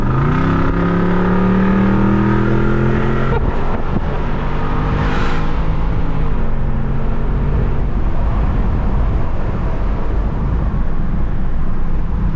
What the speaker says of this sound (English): hearing the exhaust note that's coming out of this